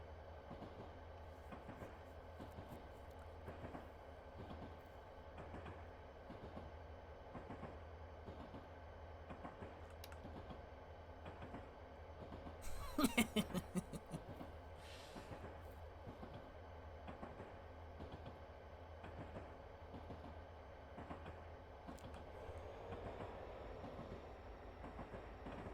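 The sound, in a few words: freight train with boxcars passing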